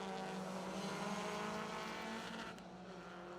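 A 2-litre Mark II Ford Escort rally car on a circuit rally stage drones loudly at sustained high revs, a strong buzzing engine note holding steady before easing slightly near the end, with no voices.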